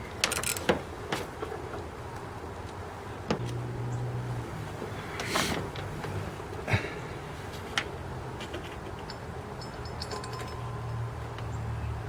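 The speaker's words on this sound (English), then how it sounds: "So we'll see how these bolts go. This might be tricky to get these guys to go in." Bolts are fitted into a water pump on a Silverado 1500, with sparse metallic clicks, creaks and small clanks at irregular moments over a quiet background.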